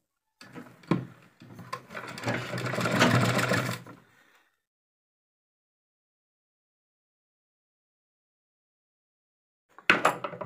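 A sewing machine stitching a sleeve design gives a few short clicks, then a rattling run of about two seconds. A long silence follows before a brief restart at the end.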